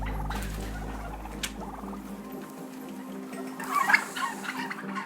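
Turkeys gobble inside an overcrowded free-range barn, a dense chorus of bird calls over steady ventilation hum, with a louder burst of gobbling near the end.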